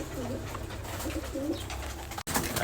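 Pet pigeons coo softly and repeatedly while feeding, over a steady rushing background, with a sudden brief dropout near the end.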